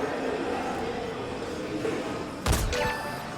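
A single sharp sniper rifle shot fired at long range in Metal Gear Solid V: The Phantom Pain, a loud broadband crack over steady game ambience, followed by a brief echoing tail.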